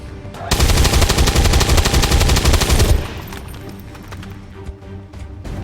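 A burst of automatic gunfire from a soldier's shot in XCOM 2, a loud rapid rattle lasting a few seconds before cutting off into quieter game ambience.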